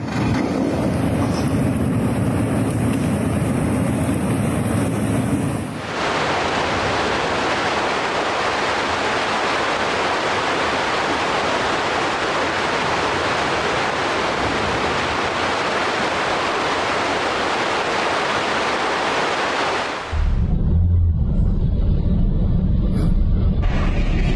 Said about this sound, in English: Rising floodwaters in Vietnam tore apart this suspension bridge and swept away a structure that stretched for dozens of meters